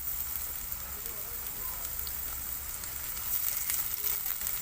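Onions and carrots sizzle as they fry in a pan for masala Maggi, a soft, steady crackle that runs throughout and grows a bit brighter near the end.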